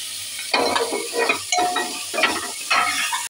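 Red bell pepper stir-fried with dalia and tomato in a pan, loud bursts of stirring and sizzling come in uneven waves, close and busy, then cut off abruptly at the end, no speech.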